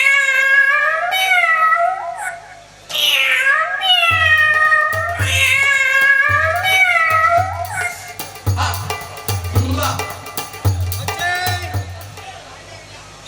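A cat meows and caterwauls in several drawn-out, wavering cries during a Tamil stage comedy, loud and close, followed by a rhythmic low thumping beat with clatter.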